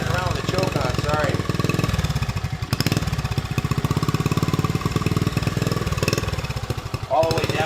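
A 1970 Honda CT70 minibike's small engine runs with the choke on, a loud, close, rapid putter that rises and falls with throttle, while people talk over it.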